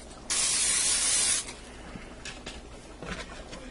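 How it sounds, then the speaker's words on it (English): Cooking spray is sprayed onto a pot pie dish in a single continuous aerosol hiss, loud for about a second, followed by faint clinks and rustling. "Let me go ahead and spray that with a little cooking spray."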